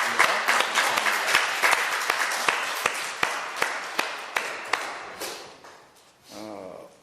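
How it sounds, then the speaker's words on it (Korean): Church congregation applause in a worship service, dense clapping with distinct sharp claps rising out of it, fading toward the end as a brief voice or tone enters. "우리에게 말씀 주신 주님 앞에 감사로 박수를 드리겠습니다."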